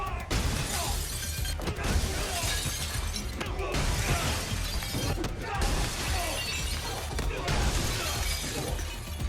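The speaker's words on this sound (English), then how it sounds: "use him to break almost every single piece of glass on the whole floor" Glass panes shatter repeatedly during a fight scene in the film John Wick 3, with several bursts of breaking glass and crashes in quick succession under a narrator's voice.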